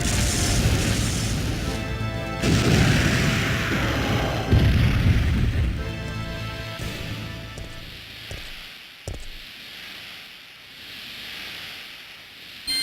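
A heavy rail cannon fires in Resident Evil 3: Nemesis and sets off a deep, rumbling explosion that rolls on for several seconds before fading, followed by a few later bangs.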